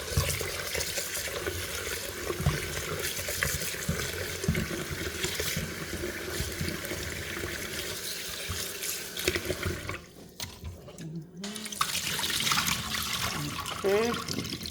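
Water running from a tap over rice being washed in a sink for pilau, a steady splashing stream that continues throughout with brief interruptions, close and moderately loud.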